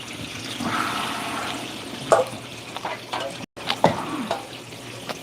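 Water running and splashing while colour film is rinsed during home developing, a steady moderate wash with a few clattering knocks and faint voice sounds in the background.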